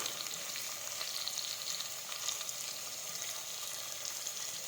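Brinjal, potato and pigeon pea vegetables frying in a pan as spices go in, a steady close hiss of sizzling oil with faint stirring, no voices.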